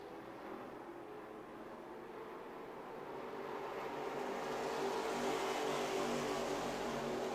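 Race cars in a Grand National Sportsman heat race at Music City Motorplex in Nashville roar at a distance, a faint engine drone that swells gradually louder as the pack draws nearer.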